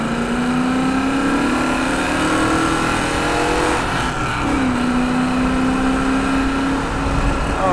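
A Rover SD1 Vitesse with its V8 engine accelerates hard, the engine note climbing steadily through one gear, dipping at a shift, then pulling up again, heard from inside the car.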